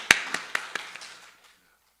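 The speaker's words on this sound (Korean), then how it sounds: "우리 하나님께 한번 영광의 박수 한번 돌릴까요?" A congregation at a church Sunday service gives a short burst of clapping: several sharp claps close together that quickly thin out and fade into reverberant quiet.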